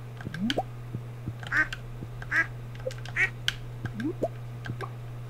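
A baby duck in the Stardew Valley video game quacks several times in short, bright bursts, spaced out over a steady background hum and small game plops.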